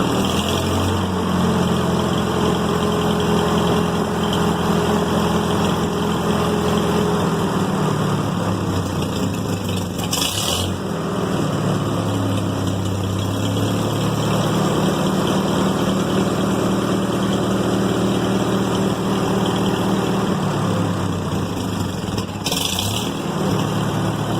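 A small engine idling roughly with an incorrect low idle, a steady continuous drone close by that runs unbroken throughout, with a couple of brief higher-pitched flickers.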